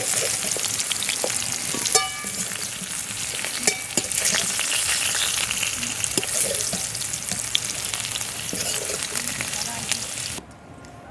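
Steady crackling sizzle of young jackfruit frying in hot oil until lightly reddish, with occasional stirring clicks, continuous and close, no voices.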